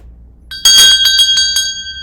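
A handheld metal bell rung like a school recess bell, loud and near, its bright ringing tone pulsing with several quick shakes and sustaining after a soft lead-in.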